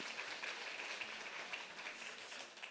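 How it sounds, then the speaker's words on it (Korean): Applause from a church congregation during a Korean faith lecture at Eunkwang Church, a faint, steady wash of many hands clapping at a distance that holds without a break. "여기 특별히 잘하시는 분들 박수 한번 쳐드리십시다."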